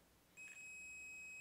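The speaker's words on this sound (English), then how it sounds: "That beep indicates that it is perfectly fine" A multimeter's continuity tester beeps steadily across an intact fuse from a $2 Smart Power 240W UPS on the bench, a single pure tone that starts abruptly and holds unbroken to the end.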